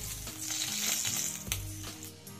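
Tengra catfish fry in hot oil, making a close, continuous sizzle with scattered crackles and small pops throughout. No one speaks.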